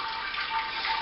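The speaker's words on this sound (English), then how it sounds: "It's more of a it's just more that trickle, not a pouring effect going through" Wort trickles steadily through the grain bed of a Robobrew mash, a soft continuous watery hiss without splashing, close and even.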